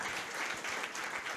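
At a public speaking event, an audience claps to welcome the two Dungrani brothers, a short and fairly quiet stretch of continuous applause heard from a distance.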